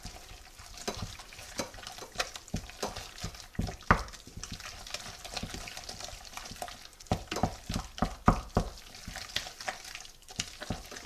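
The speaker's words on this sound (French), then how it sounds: "Et je vais à nouveau mélanger." Eggs being beaten into choux pastry dough by hand, a wet, sticky stirring with irregular soft slaps and clicks of the utensil against the bowl, close and moderately loud, with no talking.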